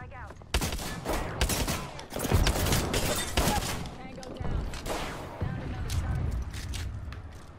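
Rapid bursts of gunfire from an Apex Legends battle royale fight, with overlapping shots cracking through most of the stretch at close range, loud and dense, mixed with game voice lines.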